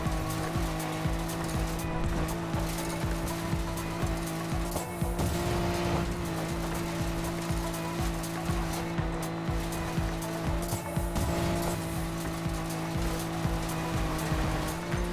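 A fast car engine roars steadily with a sustained whine, tires hissing and occasional skids, loud and continuous, in the racing game Need for Speed: Payback.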